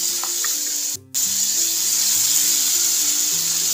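Tomatoes hitting a hot pan for kaju curry, a loud, steady hissing sizzle that breaks off for a moment and then resumes at full strength.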